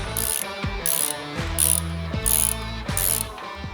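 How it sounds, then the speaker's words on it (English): Ratchet wrench worked while installing a car gearbox, a close, loud series of about five rhythmic ratcheting strokes, each a rapid clicking burst, with no talk. "Putting the gearbox in."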